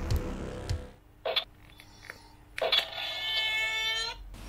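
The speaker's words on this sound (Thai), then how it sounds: "อันนี้เหมือนเสียงเปิดประตูนะครับเป็นเหล็กแบบหลอนๆเลย" A tinny, creepy metal door creak plays from the small speaker of a Mezco Leatherface toy: a few sharp clicks, then a drawn-out, groaning squeal.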